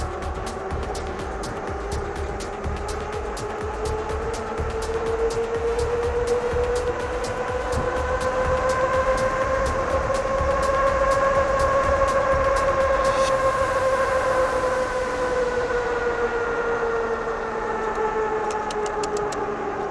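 An electric forklift driven at full throttle, a sustained whining motor tone that rises and falls in pitch over the run with steady rolling noise and faint clicks, close and continuous.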